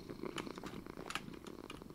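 A cat purrs in Minecraft, a close, continuous rumbling purr with faint rhythmic pulses and no talking.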